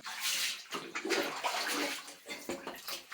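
Water splashes and pours as a young child is bathed at home, a close, continuous run of splashing and sloshing in uneven bursts with no voices.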